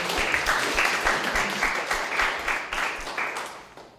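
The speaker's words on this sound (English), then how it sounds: "big applause" Loud, close applause from a lecture audience welcoming a speaker, dense continuous clapping that slowly fades toward the end.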